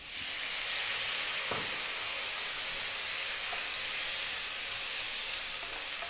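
Beef strips and tomatoes sizzle steadily in a hot pan during sautéing for ginisang toge with bean sprouts, a continuous close hiss with a brief crackle, no talking.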